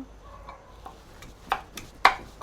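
Papaya for a Bengali papaya bharta is mashed and rubbed by hand in a bowl, giving a few soft scrapes followed by two sharper knocks near the end, close and fairly quiet.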